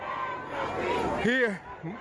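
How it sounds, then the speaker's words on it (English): Large protest crowd in Ferguson near a police barricade, a dense roar of many voices with someone speaking close over it. "as you can see the crowd, very large crowd"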